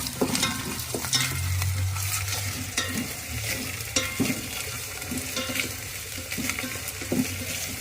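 Onions fry and sizzle in a pan for mushroom biryani over raised heat, a continuous close hiss broken by scraping stir strokes and clinks, with no talking.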